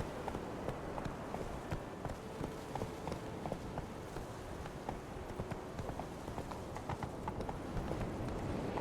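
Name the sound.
horse hooves clip-clop in the video game Witcher 3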